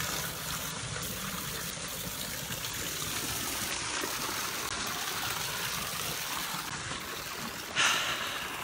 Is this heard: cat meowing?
no